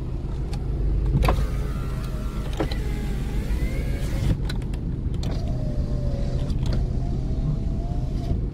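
Electric power windows on a 1999 Mazda 323 sedan, a whining motor hum running up and down in several strokes, each ending with a sharp thunk, close and loud inside the car with no talking.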